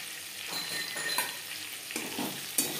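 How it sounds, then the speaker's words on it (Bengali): Pointed gourd (potol) fries in oil with a constant, moderately loud crackling sizzle. A few soft knocks of a utensil are heard, and no one talks. "পটল বেশ ভালো করে ভাজা হয়ে গেছে"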